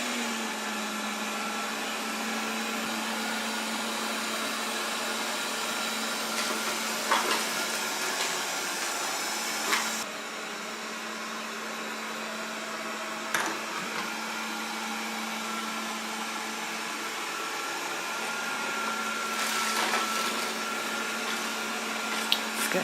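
A Proscenic 820S robot vacuum cleaner hums steadily at close range as it picks up cracker crumbs and raisins, a constant motor whine broken by occasional clicks and rattling bumps of debris.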